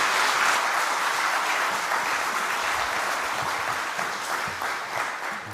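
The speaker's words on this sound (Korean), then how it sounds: "큰 박수로 우리 선교사님을 맞이하도록 하겠습니다" A church congregation gives a big round of applause to welcome a missionary family during a Sunday worship service, dense clapping that stays steady and slowly eases toward the end.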